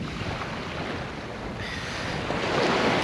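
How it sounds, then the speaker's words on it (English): Easy waves washing onto a shore, a steady broadband wash with a light wind rush that swells slightly louder toward the end, with no voices. "Easy waves."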